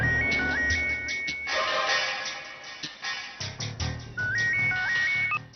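A mobile phone ringtone repeats in short melodic bursts, then stops and starts again, heard indoors in a Marathi TV serial scene over a low background.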